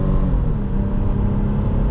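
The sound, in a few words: V6 car engine accelerating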